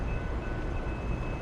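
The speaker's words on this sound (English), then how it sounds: "another inbound Metra commuter train." Inbound Metra commuter train on the BNSF line in Naperville rumbling past during a snowstorm, a steady close roar of rail cars with a faint sustained tone, no voices.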